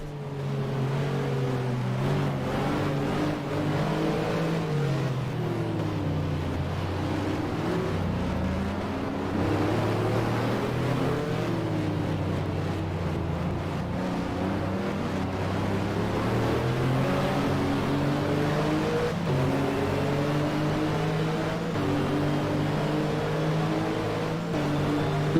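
A 2000 FIA GT race car in a driving game at Silverstone drones steadily, its engine note rising and falling through gear changes and throttle, loud and close with no talking.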